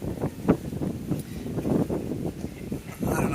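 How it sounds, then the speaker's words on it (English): Steady gusty wind among buildings on a Tokyo street in the evening buffets the microphone, a low rumbling roar with uneven surges throughout. "The wind is always very strong around here"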